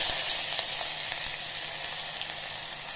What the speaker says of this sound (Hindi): डालकर दो मिनट के लिए अच्छे से प्याज को भून लूंगी हल्का गोल्डन